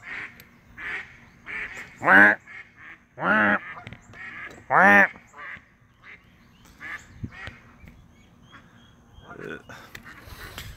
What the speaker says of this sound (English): Get the ducks! Go get those geese!